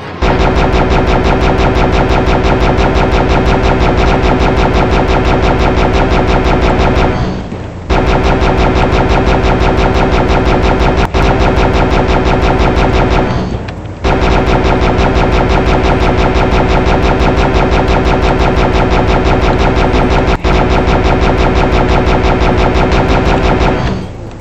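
Dense rapid gunfire-like blasts from enemies shooting projectiles in the video game Heretic, a loud continuous barrage in three long bursts separated by brief gaps.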